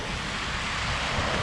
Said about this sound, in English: it is just a torrent of water